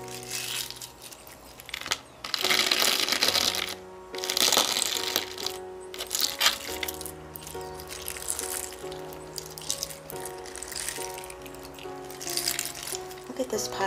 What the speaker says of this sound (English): That sound, there's just nothing as good as a lava rock